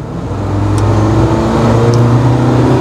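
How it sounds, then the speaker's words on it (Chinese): SAIC Maxus T90 pickup with a twin-turbo diesel engine accelerating, a loud, steady rising drone heard up close from the cabin. "这个双增压的柴油发动机还是挺猛的"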